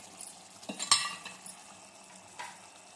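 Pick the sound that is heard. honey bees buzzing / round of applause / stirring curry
stirring curry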